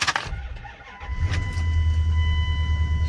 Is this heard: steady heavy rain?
no